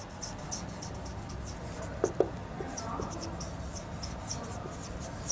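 Chalk or marker scratching on a board during a physics class, steady faint strokes with a couple of sharper taps, heard beneath a continuous background hum.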